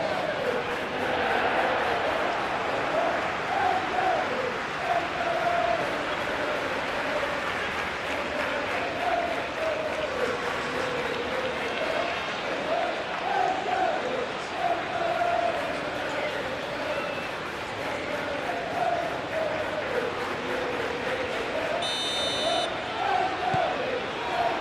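Stadium crowd in a FIFA World Cup video game, a steady dense roar of a capacity crowd with rising chants and cheers, continuous throughout under commentary-like voices.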